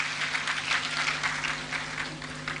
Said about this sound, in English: Clap for the women.